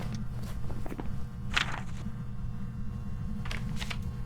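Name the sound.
ghost footsteps in Phasmophobia video game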